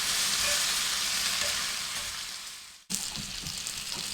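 Liver and bacon sizzle steadily on an Aldi kamado grill, a dense close frying hiss that briefly cuts out and then resumes with scraping stirs and turning.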